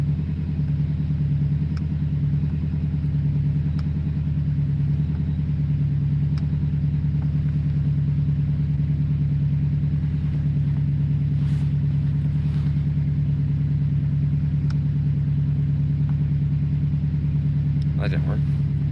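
A car engine idles at about 2% throttle during damper testing, holding a steady low droning hum throughout with faint intermittent clicks and ticks above it and no obvious revving.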